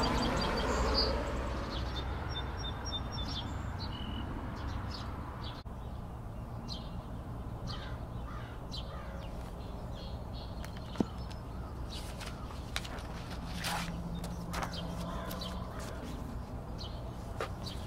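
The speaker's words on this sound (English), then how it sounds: "We're just delighting in these birds out here and the song sparrow today." A song sparrow sings outdoors, its brief chirps and trills rising faintly now and then over a steady background hiss, with other birds calling in the distance.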